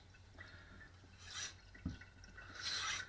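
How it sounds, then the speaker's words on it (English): Stropping a Catcheside honyaki chef knife, the blade drawn in a few soft raspy rubbing strokes with quiet gaps between, close and faint with no talk. "Couple of strops"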